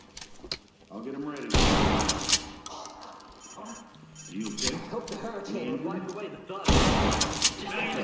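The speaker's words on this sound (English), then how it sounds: "I'm hearing gunshots" Bursts of gunfire crack out in the tactical shooter Ready or Not during a school shooter mission, two loud rapid volleys separated by several seconds while a player talks throughout.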